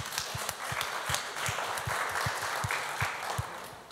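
Audience at a museum panel debate on plastic waste claps steadily for several seconds, a dense even patter with a faint regular low thump beneath it.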